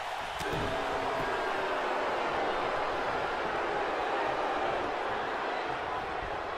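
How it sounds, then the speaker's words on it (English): A WWE 2K19 arena crowd roars steadily and loudly throughout, a dense continuous wall of cheering with a few faint thuds near the start. "This crowd going wild now."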